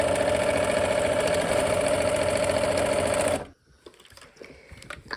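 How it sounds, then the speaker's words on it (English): Sewing machine stitching a seam on a quilt block for a pinwheel flower basket, a fast steady mechanical whir and needle rattle for about three seconds before stopping, followed by quiet handling noises. "Let's go ahead and sew that."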